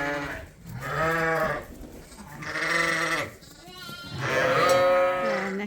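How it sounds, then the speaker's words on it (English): Ewes and lambs bleat in a livestock pen, three long wavering calls close by with short gaps between, loud and clear with no talking over them. "Come some more ewes and lambs out."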